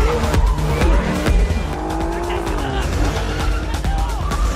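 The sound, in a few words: cars in a police car chase from a film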